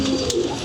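Pigeons coo in a short, steady burst at a Lahore pigeon keeper's loft, the soft low calls continuing without pause and close by.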